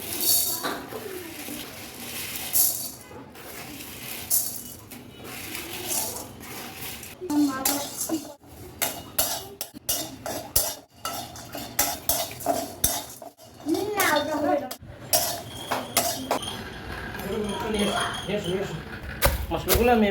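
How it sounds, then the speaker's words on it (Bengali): Roasted spices crushed in a large mortar and pestle, with repeated metallic clinks, knocks and grinding strokes at an uneven rhythm, close by, while a voice talks intermittently. "মশলাগুলো আমি এভাবে একটা বড় একটা আমান দিস্তে নিয়ে ছেঁচে একেবারে মিহি করে নেব"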